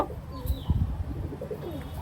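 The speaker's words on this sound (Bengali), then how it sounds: "আগে কবুতরগুলো দেখেন ভাই, অনেক ভালো মানের কবুতর" Soft, low pigeons cooing close by, several overlapping coos with a faint chirp or two in the background.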